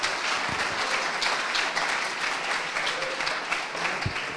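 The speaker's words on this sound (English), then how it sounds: "Let's have a big round of applause for our next speaker, Patrick." An audience at an awards event claps in steady, dense applause for the next speaker, moderately loud with no talking over it.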